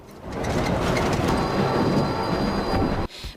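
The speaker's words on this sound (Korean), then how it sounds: "열차는 심하게 흔들리고" A train shakes violently as it runs on its rails, giving a loud, steady rumble with a faint high squeal that cuts off abruptly near the end.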